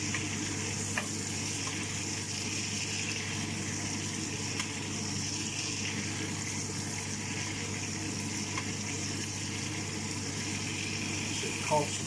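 Rump steak sizzles steadily in a hot pan while being basted, giving a constant loud frying hiss with faint clinks of the spoon.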